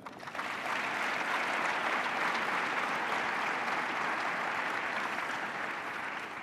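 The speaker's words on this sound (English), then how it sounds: "let's give another round of applause for Rebecca." A morning civic audience in Sacramento applauds a speaker at a downtown partnership event, steady dense clapping that fills the whole stretch without pause and at even strength from start to end.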